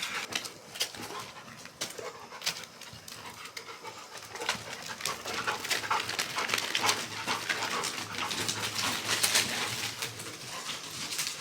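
Dog panting and whimpering in a wooded area at night, rapid close breathing mixed with soft whines and rustling, continuous and fairly quiet.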